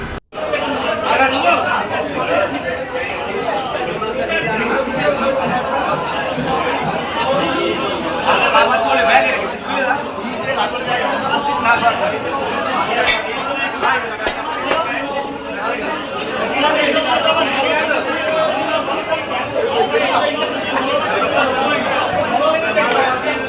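Busy market crowd chatter, a dense blend of many nearby voices talking at once with occasional clinks, continuing steadily throughout.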